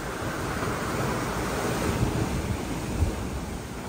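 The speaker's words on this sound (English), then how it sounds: "It's quite windy" Steady outdoor wind at a resort in Anilao, Philippines, roaring across the microphone, with a broad rumbling rush and faint surf-like swells rising and falling throughout.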